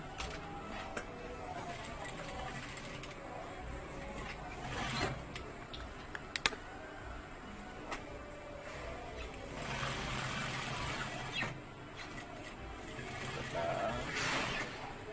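A sewing machine stitches along the bottom edge of fabric while a ribbon is made, running in a steady low mechanical whir with rising and falling bursts and occasional clicks, close and fairly quiet.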